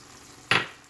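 Chicken curry with added seasoning stirred in a pan, a single short scrape-and-sizzle burst that fades gradually, close and moderately loud over quiet background.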